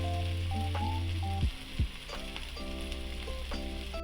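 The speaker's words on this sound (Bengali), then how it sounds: "আমাদের মশলাটা ভাজা ভাজা হয়ে গেছে" Ground spices with chili powder, salt and cumin paste sizzle steadily in a hot pan for a Bengali papad curry, with a couple of brief louder bursts and a soft melodic tone running underneath.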